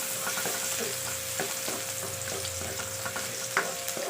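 Garlic sautéing in cooking oil in a hot pan makes a steady, close sizzle with soft stirring clicks and scrapes throughout, and no one speaks.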